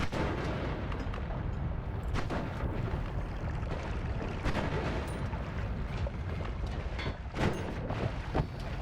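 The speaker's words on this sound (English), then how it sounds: "Assuming it doesn't fail to detonate every time, it actually does work quite well." Game explosions in Noita rumble as a dense, continuous roar, with sharp bursts cracking through the din at irregular moments. No one speaks.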